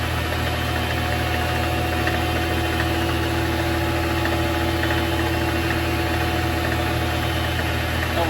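Vevor MX 400 mini lathe spinning at about 1,200 RPM, giving a steady, continuous motor hum and whine with a faint mechanical rattle throughout, alone and fairly loud.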